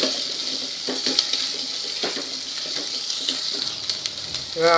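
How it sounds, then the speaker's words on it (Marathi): Onion and carrot sizzle in ghee in a pan for tomato soup, a loud, continuous close frying hiss broken by faint scrapes and clinks, with a brief higher ringing tone at the very end. "कांदा लाल होत आला की त्यातच गाजर घालायचं आहे आणि थोडं शिजू द्यायचं आहे."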